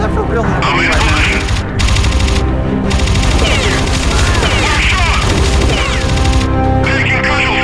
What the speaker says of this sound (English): stop shooting at Minikin. Did you guys just throw a grenade at Minikin